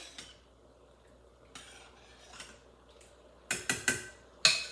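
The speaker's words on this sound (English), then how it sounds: "mix that together into the vegetables" Spices stirred into vegetables for sambar with a metal spoon, a handful of scattered scrapes and clinks against the pot, faint at first, then several sharper, louder knocks near the end.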